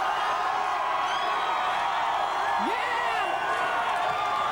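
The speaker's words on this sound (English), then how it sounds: "The crowd is going crazy inside the Much environment" A crowd cheers and whoops for James Hetfield of Metallica at the Much environment in Toronto in 2003, a dense, continuous roar with shrill whistle-like cries rising above it.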